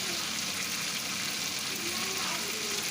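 Prawns fry in a pan as they are stirred, giving a steady, dense sizzle that stays close and loud throughout with no pauses.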